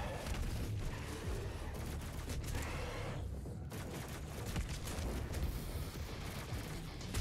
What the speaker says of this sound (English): Doesn't feel like I'm actually shooting a shotgun